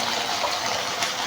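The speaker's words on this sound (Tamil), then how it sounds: "வேகிறதுக்காக கொஞ்சம் தண்ணி ஊற்றி விட்டுலாம்" Water is poured into chicken masala cooking in a pot, a brief, close, steady gushing splash.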